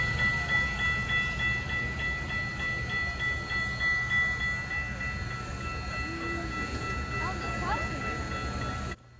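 A steam locomotive, CP 2816, rumbles steadily with a low mechanical churn and faint whistle-like tones, heard from nearby for several seconds with some background voices.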